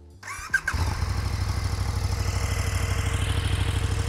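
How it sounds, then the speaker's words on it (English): A stock-exhaust KTM SuperDuke 1290 R V-twin motorcycle fires up with a brief starter whir, then settles into a steady, close, loud thumping idle. "Not a bad sounding exhaust."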